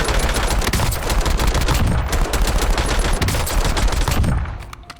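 Sustained AK rifle fire in Warzone, a loud, close, rapid string of automatic shots that runs steadily and then trails off at the very end.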